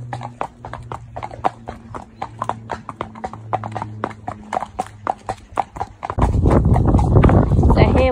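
Two horses out on their first hack clip-clop in a steady walking rhythm of crisp hoofbeats close by, then the sound turns to a dense rustling wash of movement toward the end.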